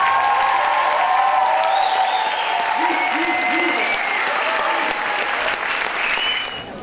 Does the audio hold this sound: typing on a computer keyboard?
no